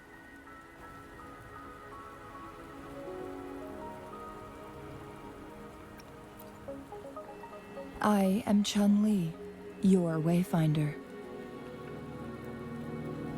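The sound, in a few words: rain in a video game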